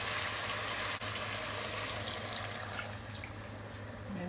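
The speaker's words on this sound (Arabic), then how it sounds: "خلاص أنا بحط لها مي كويس كده" Water pouring steadily onto chicken in a pot for chicken biryani, a continuous broadband gush with a faint low hum underneath, easing slightly toward the end.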